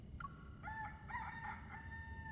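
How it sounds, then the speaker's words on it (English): A rooster in a video game crows one drawn-out cock-a-doodle-doo, fairly close and clear, over a soft background hiss. "The rooster already crowed."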